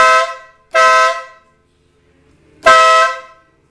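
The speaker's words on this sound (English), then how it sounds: "It's a bad boy air horn." A Wolo air horn freshly wired onto a Suzuki Marauder VZ800 motorcycle gives three loud, close blasts: two quick toots in a row, a pause, then a third, each sharp and brassy.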